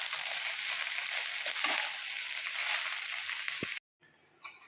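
Rice being stirred together with peas, cumin seeds, ghee and chopped green chilli in a pan, giving a steady soft scraping sizzle for several seconds before cutting out, then a brief quiet tail.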